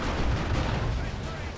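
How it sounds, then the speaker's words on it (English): Creeping artillery barrage in Warhammer 40,000: Dawn of War 2, a continuous rumbling roll of distant shell impacts blending into one loud, low, churning wash. "Creeping barrage from one of the Lord Generals"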